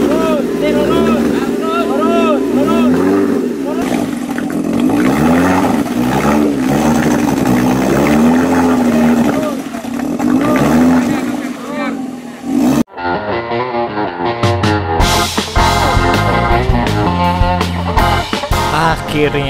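Off-road jeep engine revving hard while struggling through thick mud at an off-road fun event in Sentul, Bogor, with wavering, straining engine pitch for several seconds, then a sudden shift to choppier, rhythmic mechanical sound with music-like tones layered over it.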